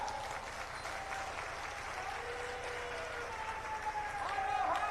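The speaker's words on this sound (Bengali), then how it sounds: "জোরে করতালির দ্বারা" Loud, sustained applause from a crowd at a Hindu Mahasabha fair inauguration, steady clapping throughout with voices mixed in.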